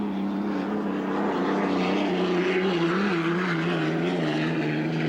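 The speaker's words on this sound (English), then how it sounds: "A Rolls Merlin engine powering the Atlas Van Lines as he goes down toward corner number 1." A Rolls-Royce Merlin engine drives the Atlas Van Lines unlimited hydroplane during a 1982 race on the Ohio River at Evansville. It roars continuously in a steady drone, heard from a moderate distance, with a slightly wavering pitch.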